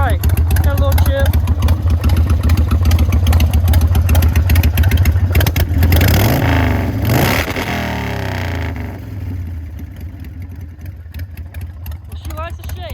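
A 1986 Harley-Davidson FXRS motorcycle engine idles loud and close in a steady, shaking rumble that swells briefly in the middle before settling back to a lower idle, with a voice speaking over it at times.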